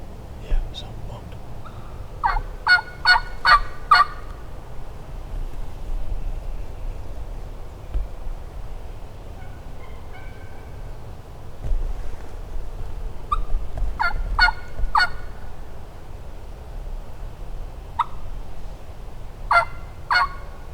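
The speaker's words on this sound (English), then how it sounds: "some of the hens went back to yelping, which let us know they were starting to calm down" Wild turkeys on public land in Mississippi woods give short, sharp bursts of yelps and gobbles in several clusters, fairly distant over a quiet background, with soft whispering between calls.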